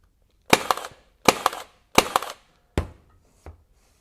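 A RIDGID 23-gauge pin nailer fires pins into soft yellow pine, five sharp close snaps with a second click after each, spaced under a second apart, the last one fainter, with no talking.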